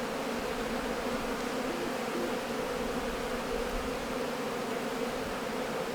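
Honeybees buzzing steadily around an open hive during an inspection of healthy colonies, a continuous close, even drone of many wings with no talk over it.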